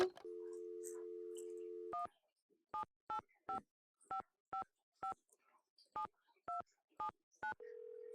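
Telephone number dialed in the Nancy Drew game Secret of the Scarlet Hand: a steady dial tone, then about a dozen crisp, evenly spaced keypad beeps, ending with a low connecting tone, clear and close.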